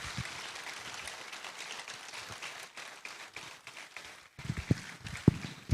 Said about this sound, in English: You have to keep clapping until His Excellency gets in.